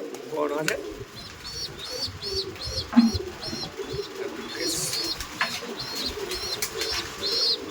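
Racer pigeons coo in a loft, a repeated series of soft rhythmic calls with a few brighter chirps, mixed with scattered rustling and faint background sound.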